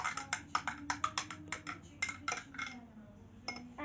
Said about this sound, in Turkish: Şimdi karıştırıyoruz.